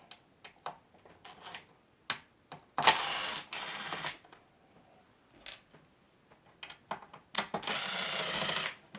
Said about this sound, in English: Okay, I got my driver. I'm going to go ahead and take some screws out.